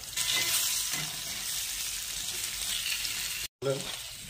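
Potatoes frying in a pan with onions browned alongside asafoetida give a steady, close sizzle. The hiss stays loud and continuous and breaks off briefly near the end.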